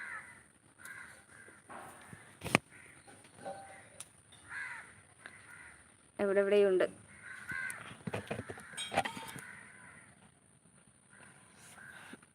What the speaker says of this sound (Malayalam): കാക്ക കരയുന്ന സൗണ്ട് പുറത്തിരിക്കുക അതായി കാക്ക കരയുന്ന സൗണ്ട്